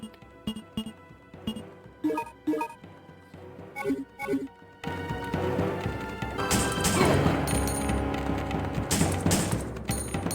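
Resident Evil game gunfire starts as a run of separate sharp shots, then turns into a dense, loud burst of crashing impacts and mechanical clatter, close up with no talk.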